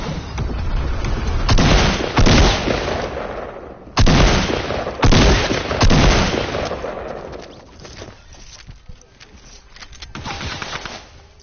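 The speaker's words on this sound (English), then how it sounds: "He shot me with the drum gun." Rapid bursts of drum gun fire in a Fortnite-style duos video game match, loud and close, several heavy volleys over about eleven seconds with short pauses between them.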